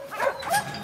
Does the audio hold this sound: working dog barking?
yes